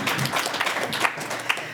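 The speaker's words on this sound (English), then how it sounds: "thank you, y'all can clap, that's cool." Audience clapping at a discussion event on schools and racial segregation, a short burst of scattered hand claps of moderate loudness, with a couple of sharper individual claps.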